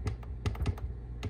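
A computer keyboard being typed on to enter a password for a PTZ camera controller setup, with about six close, crisp keystrokes in an irregular rhythm and no voices.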